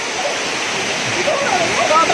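Rushing water from a river, a constant bright hiss with faint splashing, loud and near.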